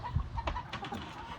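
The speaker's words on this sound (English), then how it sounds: "I absolutely love these red sexlings. They are just adorable chickens." Red sex-link chickens on a homestead clucking softly nearby, a few short, low, irregular calls close together at modest volume.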